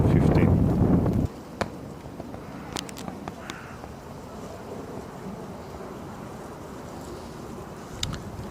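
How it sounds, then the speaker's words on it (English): Gusty wind buffets the microphone, loud rumbling for the first second, then a steady low outdoor wind noise with a few faint clicks. "It's quite a windy day"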